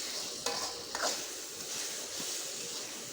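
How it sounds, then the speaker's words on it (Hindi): Chicken frying in a pan as it is stirred, a steady soft sizzle with a couple of sharp scraping strokes near the start, fairly quiet and close with no talking. "चिकन को अब अच्छी तरह भून लेते हैं।"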